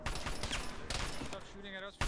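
Rapid gunfire in a multiplayer video game, dense and continuous, rattles throughout the short stretch while players talk over it and the game ambience.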